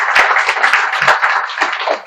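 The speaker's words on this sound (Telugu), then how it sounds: "ఒకసారి గట్టిగా చప్పట్లు కొట్టి అభినందనలు తెలియజేయండి." An audience at a government hospital event claps together in applause, a dense run of close, even hand claps lasting about two seconds without pause.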